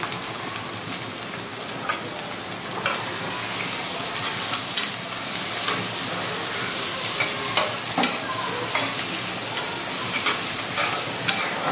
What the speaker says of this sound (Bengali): পেঁয়াজটাকে একদম আমি লাল লাল করে ভেজে নেব, ব্রেস্তার মতো করে